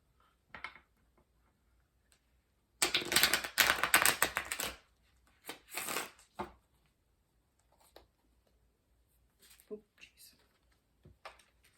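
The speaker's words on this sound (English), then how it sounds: "I'm trying to shuffle them a different way just because it'll make it a little easier for my hands." Large tarot cards are riffled and shuffled in a few bursts, one long crisp flutter followed by shorter shuffles and light taps, quiet and close.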